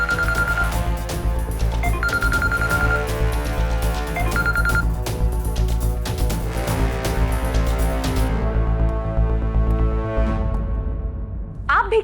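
A telephone rings in repeated bursts as an unanswered call comes in, set against a steady bed of background music in a dramatic TV serial scene; the rings stop partway through.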